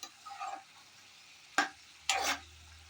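A spoon scrapes and stirs cooked sweet pumpkin palya in a pan, with two short, distinct scraping strokes over a faint background hiss and no speech.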